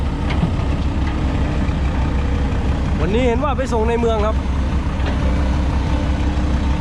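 Truck engine idling with a modified exhaust fitted with four silencer canisters, a steady low rumble running throughout, with someone talking over it in the foreground.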